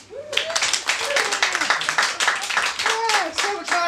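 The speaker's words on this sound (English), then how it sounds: "can you clap if you're a woman?" A live comedy-club audience of women claps in response to a prompt, a dense burst of hand claps running steadily for several seconds with some cheering mixed in.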